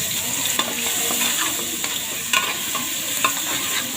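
Ginger garlic paste frying in hot oil with curry leaves sizzles loudly and steadily, broken by repeated scrapes and knocks of a spoon stirring the pan.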